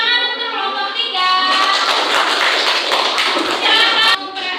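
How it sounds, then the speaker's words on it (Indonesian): A classroom of schoolchildren breaks into applause for group 3, a dense burst of clapping lasting about three seconds after a brief voice at the start, close and loud. "tepuk tangan untuk kelompok 3"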